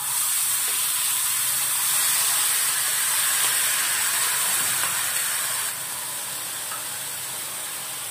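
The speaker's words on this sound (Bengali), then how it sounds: "তেল গরম হয়ে গেছে, দিয়ে দিচ্ছি কালো জিরে ফোড়ন। এখন দিয়ে দেব সর্ষে বাটা।" Mustard paste sizzling and frying in hot oil tempered with nigella seeds, a steady loud hiss throughout that eases slightly near the end, with no talking.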